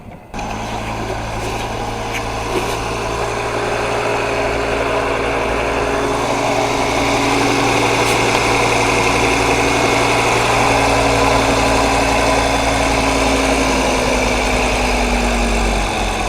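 A Volvo V70R engine, freshly installed, runs at a steady idle throughout, a loud, continuous low rumble with a constant hum and no pauses or voices.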